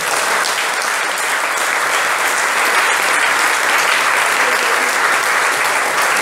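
Sustained applause from an audience at a public gathering in Martinique, dense and steady clapping throughout with no pauses, fairly loud and close.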